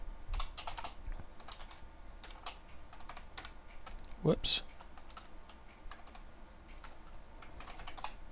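Someone types in bursts of soft, quick keystrokes on a computer keyboard while writing C# code. A brief spoken exclamation interrupts midway.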